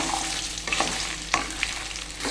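Fifty grams of ginger and dried red chillies frying in hot oil for pickle-making, producing a dense continuous sizzle with a few sharp crackles, close and steady, with no talking.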